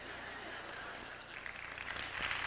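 An audience applauds at an auditorium dedication ceremony, a dense and continuous clapping that swells toward the end.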